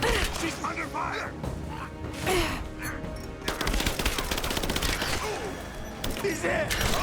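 Rapid gunfire crackles through a firefight in the video game Rise of the Tomb Raider, with dense volleys of sharp shots that grow busier and more continuous midway, under occasional voices.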